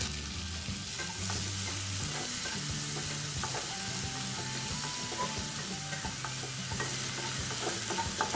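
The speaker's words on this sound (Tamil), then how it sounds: "தக்காளி நல்லா சாஃப்டாகி வரட்டும், அது வரைக்கும் வதக்கிக்கலாம்." Onion and tomato being sautéed in a pan for banana flower kootu kulambu, a steady soft sizzle with occasional spatula scrapes and stirring clatter, heard alone and fairly faint.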